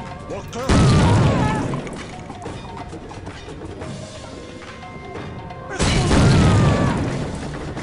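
In the shooter game Soldier of Fortune, set in Sudan, two heavy booming blasts of gunfire and explosions land several seconds apart. Each one is loud and decays into a rumbling tail, and someone talks in between.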